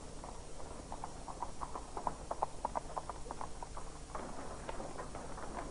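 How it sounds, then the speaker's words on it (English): Horse-drawn carriage arriving on a street, hooves clip-clopping in a steady trotting rhythm at moderate distance, with a faint wheel rumble underneath. "And here comes a legitimate carriage"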